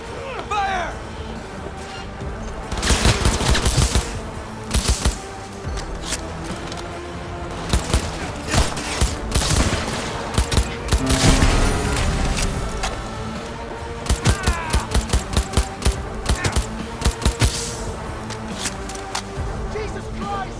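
Gunfire erupts in the video game Cyberpunk 2077 as rapid bursts of automatic shots and booms repeat over about twenty seconds of combat, loud and close, with shouted voices mixed in.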